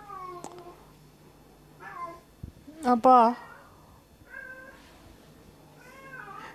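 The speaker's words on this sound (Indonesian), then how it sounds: "Jika kamu mendengar suara kucing, abaikan saja." A cat meows several times indoors, drawn-out cries that come in separate bursts, with one louder, sharper yowl near the middle, while a person speaks briefly in the background.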